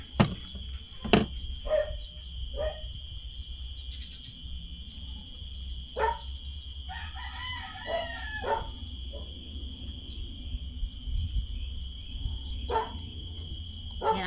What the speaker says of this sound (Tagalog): Yan ang hindi mauubos dito, yung tahol ng aso.